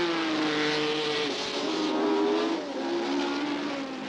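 1967 Formula 1 race cars at Mosport Park roar past with high, rising engine notes that shift pitch as they go by, loud and continuous throughout.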